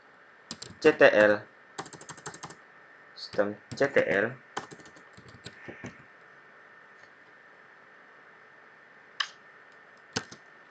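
Bursts of quick computer keyboard typing, clicky keystrokes in short clusters with pauses between, then a couple of isolated key taps, while entering a systemctl command.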